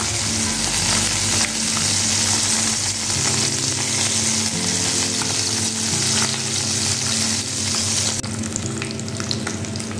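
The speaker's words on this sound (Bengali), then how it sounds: "লালচে ব্রাউন করে ভেজে নেব।" Bata fish pieces frying in hot oil for a Bengali fish dish, a steady, loud sizzle that carries without pause for the full length, with occasional stirring and no voices.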